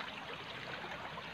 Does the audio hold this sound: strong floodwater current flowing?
yes